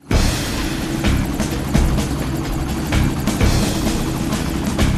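A helicopter flies in the video game XIII, its steady rotor drone loud and continuous with rhythmic thumping pulses throughout and no voices.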